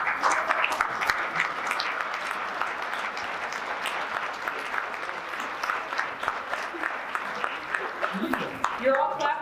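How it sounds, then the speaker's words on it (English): Audience applause at a First Tuesday community event, steady and loud from the crowd for nearly ten seconds, with a voice starting to talk over it near the end. "You're all clapping so loud"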